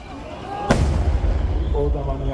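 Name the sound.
large firework shells bursting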